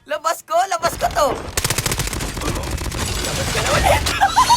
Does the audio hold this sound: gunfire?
yes